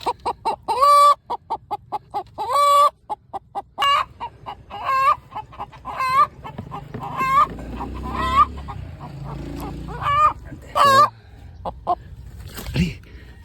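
An agitated brown hen clucks loudly in repeated sharp bursts, close up, with rustling and scuffling between calls.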